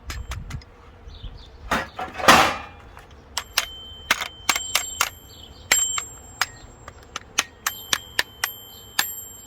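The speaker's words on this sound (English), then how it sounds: "this one even has a little bell on it for you. Ding ding ding." A small bell on a disassembled whiteware appliance is struck over and over, giving bright, close metallic dings in an uneven rhythm after a brief rustle of handling.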